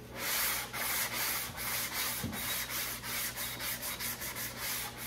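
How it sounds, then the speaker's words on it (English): Continuous close-up block sanding in a crosshatch pattern across a guide-coated car body panel, a dense abrasive hiss with regular back-and-forth strokes, loud and uninterrupted. "you want to do your crosshatch type sanding"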